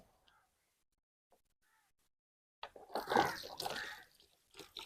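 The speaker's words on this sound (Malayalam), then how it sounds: "ചെടിക്ക് വെള്ളം ഒഴിക്കണം" Water poured from a bottle onto a newly planted seedless lemon plant, a close, brief splashing pour that starts after a few seconds of near silence and trails off into a few soft drips.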